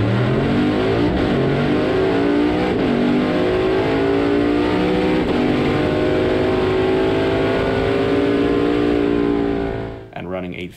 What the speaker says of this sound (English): And right now I burp the throttle.